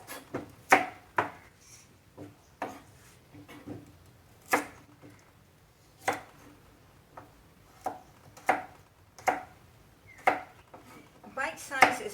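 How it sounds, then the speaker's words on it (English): Carrots being chopped on a cutting board for a salad: sharp, evenly spaced knife knocks, about one every second, close and crisp over a quiet background. "we're going to just chop this up"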